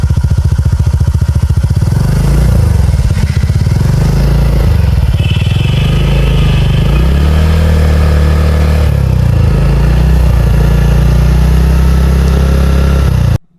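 A TVS Ntorq 150 scooter runs close by, its engine and exhaust holding a smooth, steady putter with gentle rises and dips in revs for about thirteen seconds before cutting off abruptly.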